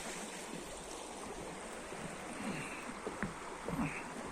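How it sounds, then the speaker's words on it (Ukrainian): Continuous broadband rushing of a stream in Skhidnytsia in April, steady and fairly close, with a few small splashes and trickles near the end. "Місточки, переходи, везде вода тече."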